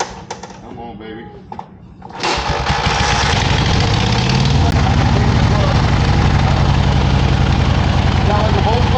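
A vintage motorcycle engine built from half an old Volkswagen engine catches after a few sputters and settles into a loud, steady, throbbing run, close by and filling the rest of the clip.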